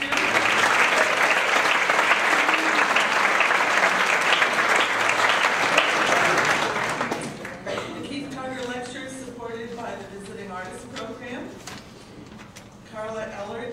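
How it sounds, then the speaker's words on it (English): Audience applause at an artist lecture honoring exhibition designers, a full burst of clapping for the first seven seconds that then drops away as a voice begins speaking over the fading room. "And so they deserve a round of applause, too."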